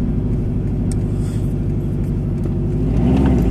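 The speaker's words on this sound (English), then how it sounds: "all the external mic on the GoPro wanted to hear was my car and its horrible, nasty exhaust leak" A car engine with a loud, nasty exhaust leak, recorded on a GoPro external mic from inside, makes a steady, close, rough rumbling drone with a rapid pulsing putter and a slight rise near the end, with no voices.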